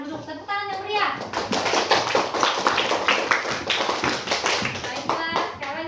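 A classroom of fourth-grade children breaks into lively applause, dense fast clapping close by and steady throughout, with a few young voices mixed in.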